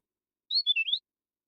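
A small bird gives a quick, bright run of four chirps in close succession, clear and alone against silence.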